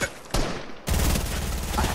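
Two close bursts of rapid gunfire in the game Fortnite, a short volley followed by a longer sustained stretch of shots.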